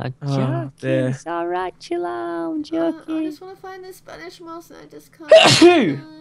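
A single loud, sharp sneeze bursts out near the end, just after a stretch of animated voices chatting, standing out as the loudest moment.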